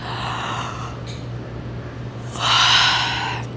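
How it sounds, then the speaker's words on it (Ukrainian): A person yawns deliberately with the mouth wide open during a breathing exercise, exhaling through the nose. Two long, breathy yawns come close by, the second louder and fuller, with no talking. "Спочатку ви будете через силу позіхати."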